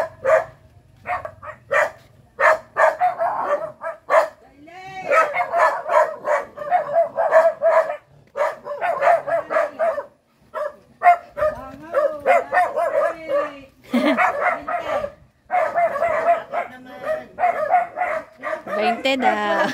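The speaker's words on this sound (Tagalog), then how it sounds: "may aso na naman" Dogs barking around a village neighbourhood, repeated sharp barks and yips in irregular bursts, close and fairly loud, mixed with people talking and some whimpering sounds.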